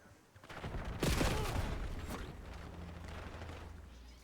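Gunfire from akimbo dual pistols in a Call of Duty match, a rapid burst of shots and impacts swelling loud around the one-second mark, then settling into a busy rumble of game effects.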